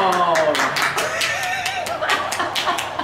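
Scattered clapping from a few people during a Korean fashion try-on session, quick uneven claps spread across a few seconds, close and fairly loud, with talking and laughter mixed in.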